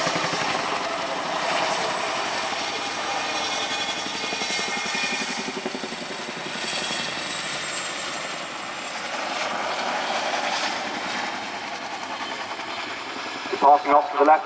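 An RAF Chinook twin-rotor helicopter flies a role demonstration at the RIAT 2025 air display, its loud, steady rotor thrum and turbine whine sustained throughout. A few sharp bursts come near the end.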